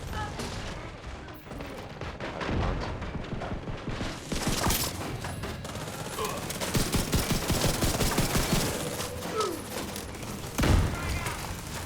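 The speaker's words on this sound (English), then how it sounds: "Fire at their position. Support them with mortars." Mortar and gunfire erupt in a firefight in the shooter The Division 2, with heavy booms, rapid bursts and thumps layered densely throughout, and voices calling out over the battle.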